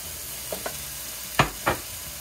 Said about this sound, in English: now we're gonna add the garlic, our minced garlic, our celery